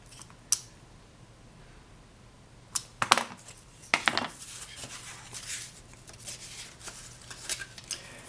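Scissors trimming fabric for a handmade portfolio, a few crisp snips and rustles of cloth, close and fairly quiet, in irregular bursts after a short pause.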